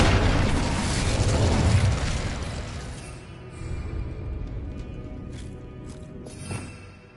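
The Incendio fire spell in a Harry Potter video game bursts with a loud, rumbling whoosh that swells and then slowly fades, followed by a few faint clicks.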